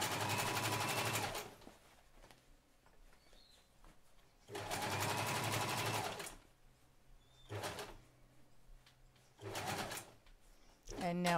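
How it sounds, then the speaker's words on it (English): A domestic sewing machine stitches a shortened jeans hem in several separate loud bursts of rapid whirring, with quiet gaps between runs. "Now it's just a matter of sewing around to the next seam."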